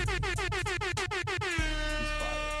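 A series of rapid, blaring air horn blasts in a stuttering rhythm, then one long sustained horn blast trailing off, loud and close.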